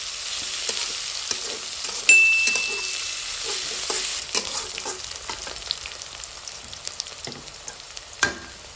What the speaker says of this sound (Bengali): নেড়ে চেড়ে পেঁয়াজগুলো আমাদের সবগুলো উপকরণের সাথে ভালোভাবে মিশিয়ে পেঁয়াজটা একটু নরম করে নিতে হবে